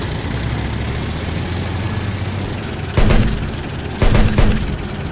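A tank engine in the Roblox war game Vanguard drones steadily with a low, heavy rumble, interrupted by two loud booming bursts around the middle and later.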